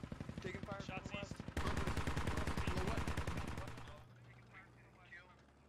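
Gunfire in the video game Squad, a sustained, loud burst of rapid automatic fire with dense repeated shots, over a player's radio-style voice, then fading into quieter distant shots.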